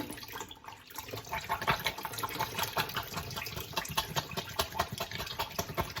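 Tap water runs steadily over fire roasted red peppers being rinsed in a kitchen sink, a continuous close splashing with irregular spatters, fairly quiet.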